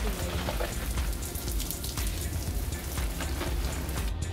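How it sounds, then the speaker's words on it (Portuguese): Water is poured over a soil mound in a tortoise enclosure on a hot sunny day, giving a dense, continuous rain-like patter and spatter that stays close and steady for a few seconds. "Agora vamos molhar ali o morrinho."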